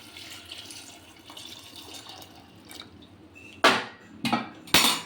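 Faint water pouring into a metal pressure cooker holding potatoes, then three sharp metallic clanks close by near the end.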